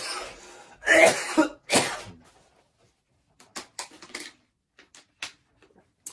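A few coughs, fairly close, two or three loud bursts followed by quieter scattered throat noises and small clicks.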